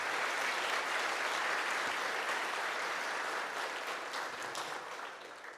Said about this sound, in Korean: 저희들 감사의 박수 한번 하겠습니다